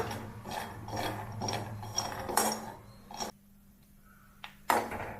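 Peanuts dry roasting in a pan without oil make light rattling, clinking scrapes as they are stirred, coming in irregular bursts with a quiet pause, close and fairly soft.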